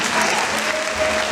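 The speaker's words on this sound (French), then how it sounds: "Là, on va avec les applaudissements" Applause from a congregation at a Mass for the feast of Saint John Baptist de La Salle, a steady dense patter of many hands filling the short moment at moderate loudness without voices.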